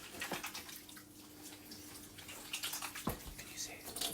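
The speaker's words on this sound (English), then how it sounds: "We're going to wash our hands with hot water." Hot water runs from a tap as hands are washed for a kids' cupcake cooking class, a faint, splashy trickle with a couple of sharper clatters, quiet and close.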